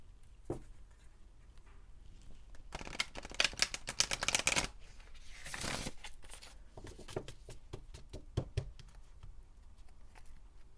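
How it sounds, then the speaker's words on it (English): Tarot cards being shuffled and pulled from the deck, with soft riffling and sharp bursts of card snaps and flicks in quick clusters, close and fairly quiet, with no talking. "let me go ahead and pull some more cards"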